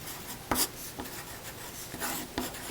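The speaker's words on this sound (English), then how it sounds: "I'm just going to write the word front" A pen writes a word on a paper sewing pattern, making soft, close scratching strokes with a few sharper taps as each letter starts.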